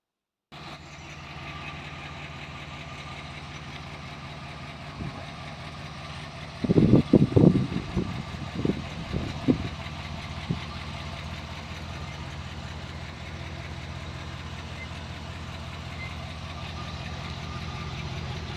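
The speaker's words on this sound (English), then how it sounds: "Here we have John Boy driving the Ford." A Ford car engine runs at a steady idle with a continuous low drone, loud and close. A few thumping knocks rise over it midway.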